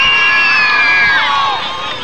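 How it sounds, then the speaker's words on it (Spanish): A crowd at a 1999 men's modeling show cheers and whoops loudly and continuously, a dense bright roar of many voices with no clear claps standing out. "¡Aplauso para el hombre!"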